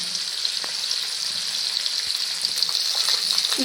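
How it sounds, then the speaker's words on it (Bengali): Large local koi fish (climbing perch) frying in hot oil, giving a steady, close, dense sizzle with a few faint pops and clicks. "দেখুন মাছ দিয়ে দিয়েছি অল্প করে ভেজে নেব"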